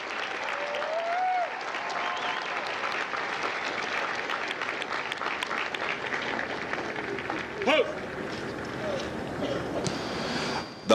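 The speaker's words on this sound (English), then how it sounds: "please join me in a round of applause for the company staff of Fox Company" A crowd at a Marine Corps recruit graduation ceremony in San Diego claps steadily and heavily for the Fox Company staff, a sustained, even wash of applause with a few louder bursts.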